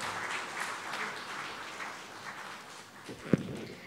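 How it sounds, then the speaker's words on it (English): Moderate crowd applause, fairly distant and soft, tapering a little before a single sharp knock near the end. "Please give a big round of applause for sir."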